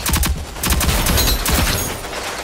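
Rapid video game gunfire in a bomb-defusal match, several quick bursts of shots in clusters over steady background noise, close and loud.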